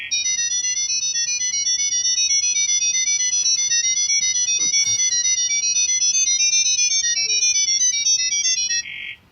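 Wave-share encoding text data as sound: a rapid, steady stream of high warbling electronic tones hopping between pitches, loud and unbroken for about nine seconds before cutting off abruptly.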